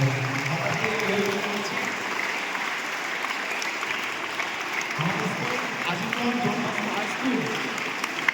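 School audience applause at a Don Bosco high school event, a steady bed of clapping from a large crowd running throughout, with a voice speaking over it.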